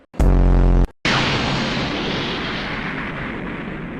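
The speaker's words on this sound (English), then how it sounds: "Blew himself up just for Boo to regenerate anyway" An anime energy explosion as Vegeta unleashes his ultimate attack: a short rising charge tone, a brief gap, then a huge booming blast that rolls on as a long, slowly fading roar.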